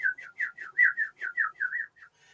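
A person whistles an imitation of birdsong like that from a toilet sound-masking button: about ten quick chirping notes in a steady rhythm, close and clear, alone.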